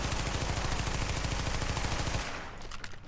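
A submachine gun in The Division video game fires a long, rapid, loud sustained burst for about two seconds, then stops, leaving faint clatter and tail noise.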